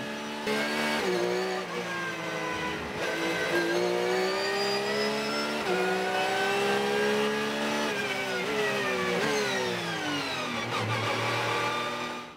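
Race cars, including a Porsche, scream past on a racing circuit, their engines loud and continuous with rising and falling pitch as they shift and pass, and no voices heard.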